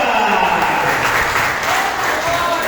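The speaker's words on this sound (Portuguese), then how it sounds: "Só quem é de Jesus bate palmas com força, igreja." Church congregation claps hard and continuously, dense and loud throughout, with a preacher's voice and crowd sounds mixed in.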